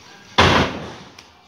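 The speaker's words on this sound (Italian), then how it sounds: "Sbatte la porta perché c'è vento." A wind-blown door slams shut once, loud and close, with a sharp impact that rings down over about half a second. A faint small knock follows soon after.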